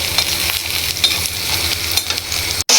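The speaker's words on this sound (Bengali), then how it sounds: "একটু নেড়ে চেড়ে নেব।" Dried fish and spices sizzle and fry in a pan while a spatula stirs them, a loud close crackling hiss with soft scraping strokes, cut briefly by a dropout near the end, no voices.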